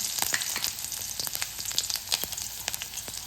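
Steady crackling sizzle of onions, mustard seeds and urad dal frying in hot oil in a pan, continuous with scattered sharp pops, close and fairly loud, no voices.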